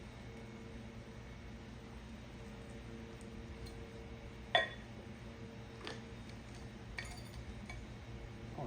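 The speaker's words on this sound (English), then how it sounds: "Just dropped the razor blade in that one." A razor blade drops into a pile of Cummins engine parts awaiting powder coating, giving one sharp metallic clink midway over a faint steady background hum, with a couple of softer taps later.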